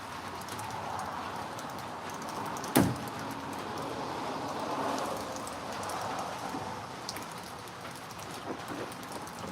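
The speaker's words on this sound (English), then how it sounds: "Not good. Raining. We need the rain though." Steady rain falls outdoors near a work truck, a soft continuous patter with scattered drips and one sharp knock partway through, with no talking.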